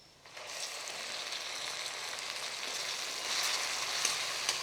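Chopped tomatoes hit a hot pan of browned onions and start sizzling, a steady bright frying hiss that swells slightly louder toward the end.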